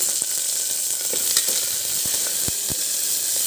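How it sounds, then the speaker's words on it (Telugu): Green chillies sizzle and fry in hot oil in a pan while cooking Telugu bachchali kura pappu, a steady bright hiss with scattered small pops and crackles throughout, no voices. "పచ్చిమిర్చి నెక్స్ట్ వేగనిద్దామండి"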